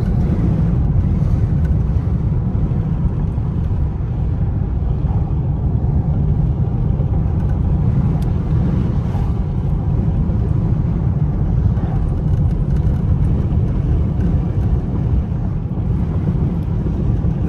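A car drives through rain and snow in stormy clouds near Big Bear, California, its engine and road noise a steady, dense low rumble that lasts throughout, with no voices.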